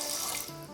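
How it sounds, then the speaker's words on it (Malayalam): Water poured into a pressure cooker holding washed jackfruit seeds for a home-style curry, a short steady splashing rush that settles into a lower, fuller pour as the pot fills. "നമുക്കതിലേക്ക് പാകത്തിന് വെള്ളം ഒഴിച്ച്"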